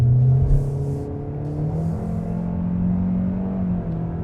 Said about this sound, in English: let's get this out onto the highway in normal mode